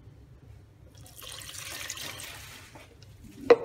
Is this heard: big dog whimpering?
no